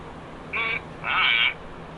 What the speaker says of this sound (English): My controller's vibrating.